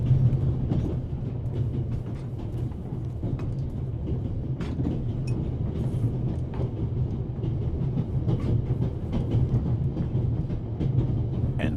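A train from the video game The Raven Remastered runs steadily on its tracks, a continuous low rumble with faint clicking, heard alone and evenly loud throughout.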